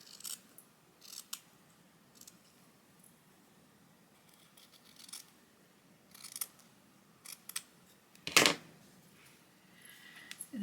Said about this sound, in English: I'm going to cut a little fabric snippet to put behind my button.